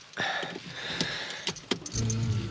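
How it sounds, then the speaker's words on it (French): Car keys jangle and clink close up in a quick run of bright metallic rattles, followed by a low hum from the car interior. "je sors un peu les clés"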